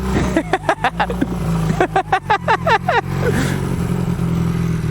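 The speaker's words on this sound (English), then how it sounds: "Dirt bike!" A 440 motorcycle is ridden up an off-road dirt climb, its engine revving in rapid, choppy bursts with a steadier drone afterward, close and loud under wind noise.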